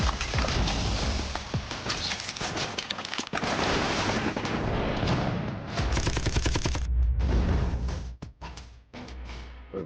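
Dense, loud video-game combat with rapid continuous gunfire and explosive missile blasts layered into a constant roar that breaks into a few separate bangs toward the end.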